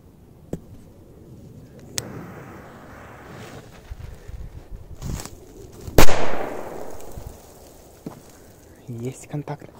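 Small firecrackers half-buried in sand burst one after another outdoors, a few sharp pops building to one loud thump near the six-second mark, with wind rumbling across the microphone and brief crackles near the end.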